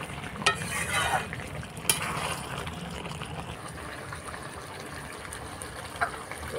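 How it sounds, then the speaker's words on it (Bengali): Chicken for dhoniya chicken sizzles and stir-fries in a pan, a steady close hiss and bubble with a few sharp clinks of a utensil against the pan. "একটু করে ঢাকা দিতে হবে আর কষাতে হবে"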